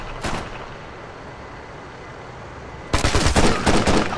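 Gunfire from Ghost Recon Future Soldier rattles out in a brief burst, then a louder sustained stream of rapid shots takes over, close and harsh.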